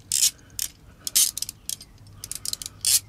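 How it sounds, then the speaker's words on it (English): A small hand wrench from a tool kit turning the screws of a rifle scope mount: sharp, close clicking bursts in irregular clusters, some quick and light, a few longer ratcheting runs, against quiet background with no speech. "I got this little wrench here from the Borka kit."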